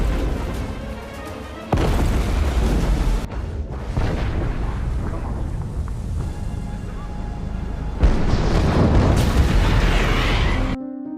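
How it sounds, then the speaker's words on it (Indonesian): Heavy booms and roaring blasts rise and fall in several surges as a tanker ship explodes, deep and rumbling, with a sharp cutoff at the end. "Dari kejauhan kapal tanker meledak"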